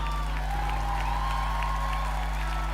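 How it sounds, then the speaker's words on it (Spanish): Studio audience applause for Hilda on a live morning radio broadcast, a dense steady patter of clapping with faint cheers, held at a moderate level over a low steady hum. "¡Aplausos para Hilda!"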